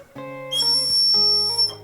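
A wooden whistle blown in two steady breathy tones, the second higher and shriller, each held about a second, close and fairly loud.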